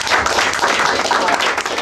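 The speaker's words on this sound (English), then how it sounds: "So please, if we could have a round of applause" Audience applause for a guest at a Native American cultural week gathering, a continuous patter of many hands clapping at steady moderate loudness for about two seconds.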